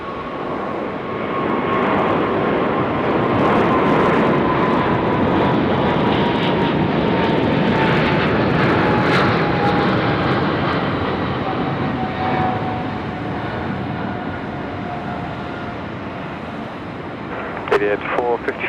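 A fixed-wing airliner lands at Sydney Airport on runway 34 left, its steady, loud engine roar and whining tone sustained throughout, with a faint air traffic control radio voice near the end.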